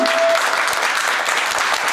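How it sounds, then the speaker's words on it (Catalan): Steady applause from a crowd at a primary school children's Christmas carol concert, dense clapping that fills the whole stretch at a consistent, fairly loud level. "un fort aplaudiment per tots vosaltres"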